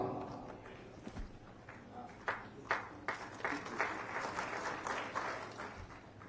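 Applause rises in scattered bursts of clapping at a PM Kisan Utsav Diwas farmers' event in honour of the Prime Minister, thin at first and then swelling into a steady patter with faint background noise.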